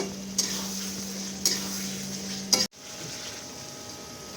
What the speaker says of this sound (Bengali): ভালো করে বেশ কিছুক্ষণ কষিয়ে নিতে হবে